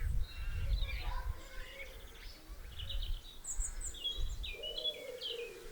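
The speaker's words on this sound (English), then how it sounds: "Birds are very vocal today." Garden birds sing and chirp in scattered high phrases, faint and somewhat distant, over low rumbling background noise.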